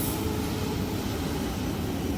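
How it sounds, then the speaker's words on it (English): An Amtrak Capital Corridor train hauled by an SC44 locomotive, bound for Sacramento at the Oakland Coliseum station, gives a steady, close, unbroken low rumble of wheels and engine with no talk. "Alright folks, this train is headed to Sacramento."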